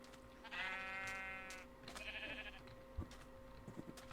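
Sheep bleat in the Minecraft video game during a sheep fight, two quavering cries in quick succession over faint background noise and a few soft clicks.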